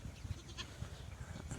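A young goat on grass, with faint, soft bleats and low rustling sounds close by in a quiet outdoor setting.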